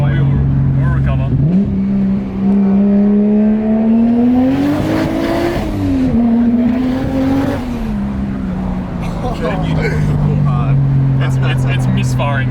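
A 450 hp 1JZ-powered Toyota Chaser engine misfiring and breaking up under load, heard from inside the cabin as a loud, continuous droning exhaust note that rises and falls in pitch, with occasional talk over it.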